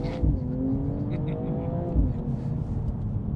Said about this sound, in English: So I'm going to hear this exhaust in full whack.